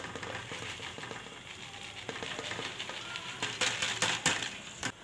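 Green beans and mince being stirred in a hot cooking pan, a soft sizzle with scraping stir strokes that grow into a few sharper clatters near the end, no voices.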